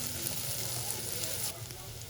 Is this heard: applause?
no